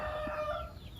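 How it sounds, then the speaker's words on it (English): Chickens on an organic chicken farm give a short, nasal clucking call over a low background of other birds, heard close and without talk. "In this video, I will show you about my organic chicken farm."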